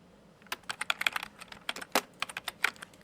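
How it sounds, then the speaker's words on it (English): Rapid, irregular key strikes clatter close by, a quick burst of typing clicks with uneven rhythm and no voices. "Make sure you also use like a typewriter sound effect if you would like to."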